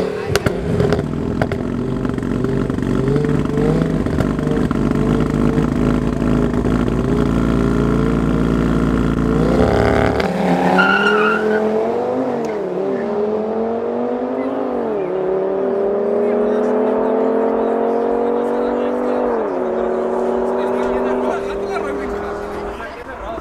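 Loud car engines of an Audi RS3 and a BMW roar at full throttle at an illegal street race in Johannesburg, then shift into a rising, whining acceleration with repeated gear changes as the cars pull away.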